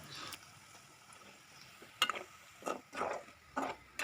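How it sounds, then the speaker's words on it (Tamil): Cauliflower pakoda frying in hot oil and stirred now and then, a faint soft sizzle broken by several brief scraping stirs against the pan, quiet and close. "இடையிடையே கிளறி விட்டு நல்லா டார்க் கோல்டன் ப்ரௌன் வர்ற வரைக்கும் பொரித்து எடுக்கணுங்க"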